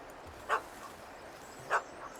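A puppy in The Witcher 3 gives two short, sharp barks about a second apart over a quiet game ambience.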